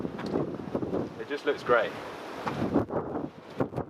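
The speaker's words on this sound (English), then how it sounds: "And it's pretty windy." Gusty wind buffets the microphone in low rumbling bursts while someone talks over it.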